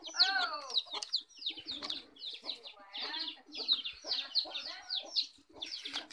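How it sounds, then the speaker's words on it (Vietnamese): Several roosters crow over one another on a quiet morning at a hillside house in the Northwest Vietnam highlands, mixed with clucking hens and faint bird chirps, fairly close and continuous. "Mấy con gà trống thì thi nhau"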